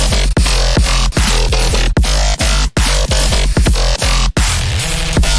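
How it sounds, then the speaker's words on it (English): Heavy dubstep bass sounds built on a Microfreak synth and processed through Ableton effect racks: loud, dense, distorted low-end wobbles and growls, chopped into rhythmic bursts with brief cuts between phrases. "So all of the bass sounds you can hear here."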